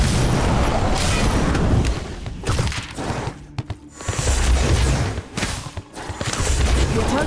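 Incendio fire spell effect from Harry Potter: Magic Awakened, a dense, loud burst of crackling, booming magical noise filling the scene, with brief dropouts near the middle and end before the roaring resumes.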